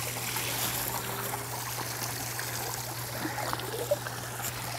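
Steady trickling water from a pond waterfall running over rocks, continuous, with a low constant hum underneath and no voices.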